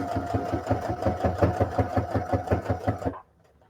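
A home sewing machine stitches bias tape around curves for a beginner project, its rapid, steady mechanical chatter running close and loud for about three seconds before stopping abruptly into near silence.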